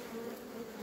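Honey bees hum steadily inside a crowded beehive colony, a dense continuous buzz held close and even, with no voices over it.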